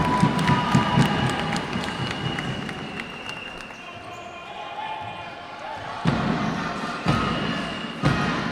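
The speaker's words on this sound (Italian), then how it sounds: "E si alza il coro della tifoseria dopo la prodezza di Alessandro Pisano" An Italian Serie C basketball crowd in Sennori raises a chant after a spectacular basket, a steady roar of many voices with sharp thumps of a bouncing ball and a commentator talking over it.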